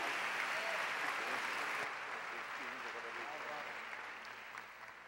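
Church congregation at a revival conference clapping together, a dense burst of applause that gradually fades over a few seconds while a voice speaks over it.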